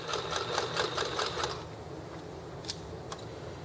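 Sewing machine top-stitching around a bag seam, a fast rhythmic mechanical whirr of stitches for about a second and a half before stopping, followed by a few faint clicks, close up with no speech.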